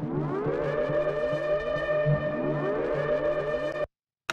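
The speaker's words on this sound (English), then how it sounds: "so we got this siren thing going on." A synthesized Omnisphere siren layer in a song mix, wailing in repeated rising sweeps over a steady tone and rhythmic beat, cutting off abruptly near the end.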